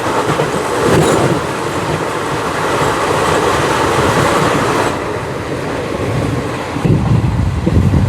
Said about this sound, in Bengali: এখন আসছে এসএফবিটি বেঙ্গালুরু অমৃত ভারত এক্সপ্রেস